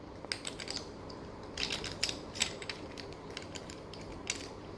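A bolt is tightened on the turn signal of a Ninebot scooter, with quick ratcheting clicks and small metallic rattles in short bursts, close and fairly quiet with no talking.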